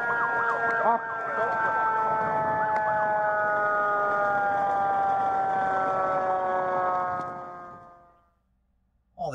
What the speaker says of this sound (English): we can't turn off our siren